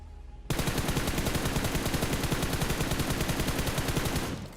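Sustained automatic gunfire in the battle-royale game BGMI, a loud, dense rapid burst that starts abruptly after a brief quiet moment and runs continuously for about four seconds before easing off.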